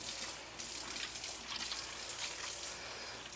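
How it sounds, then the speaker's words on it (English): Water runs steadily from a kitchen tap during a quick hand wash, a soft, fairly faint hiss and splash that shifts slightly as hands move under the stream, with no talking. "Wash my hands real quick."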